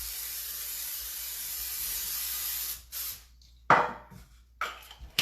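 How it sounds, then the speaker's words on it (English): Cooking spray hisses steadily into a deep pan for almost three seconds, then comes a few shorter, sharper spritzes and clatters, close and fairly quiet. "I'm using some spray. Make sure you spray properly."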